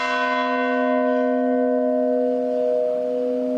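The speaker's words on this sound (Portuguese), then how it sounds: "sinos voltaram a tocar na matriz de Nossa Senhora do Rosário, em Pirenópolis" Two newly installed church bells ring out at the Nossa Senhora do Rosário parish church in Pirenópolis, Brazil. A single loud, close bell tone rings with a steady, sustained hum and rich overtones that slowly fade, with no voices.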